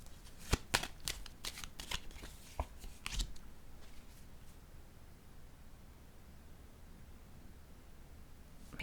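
Tarot cards shuffled by hand in a burst of crisp riffles and flicks over the first three seconds, then a faint hush of near-silence with low room noise.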